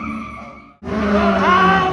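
A Suzuki Swift race car skids loudly, its tires squealing in a sustained, rising screech that starts abruptly after a short lull under steady engine noise.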